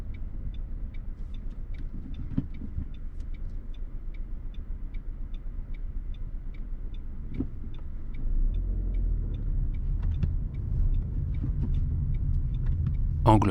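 A car sits idling at a red light in Saint-Germain-en-Laye during a driving lesson, its engine a steady low rumble close by, with a regular faint ticking running throughout and the engine swelling slightly near the end.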